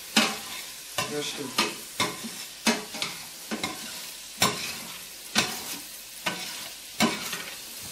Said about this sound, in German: Zwiebeln und Knoblauch angebraten